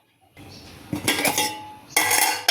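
A metal lid is placed on a pot of goat trotter soup, a few sharp clanks and scrapes close by, with a short pause between two bursts of clinking.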